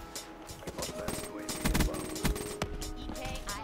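Gunfire in a Call of Duty match crackles in quick bursts and single sharp shots over layered game effects, fairly close and punchy, with no speech over it.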